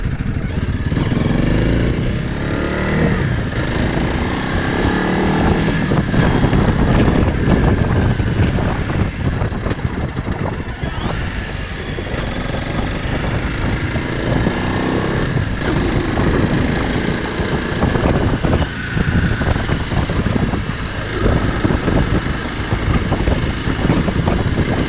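A loud motorcycle engine roars continuously, revving up and down close by, with wind buffeting the microphone.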